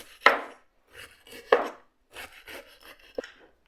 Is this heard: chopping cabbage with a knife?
yes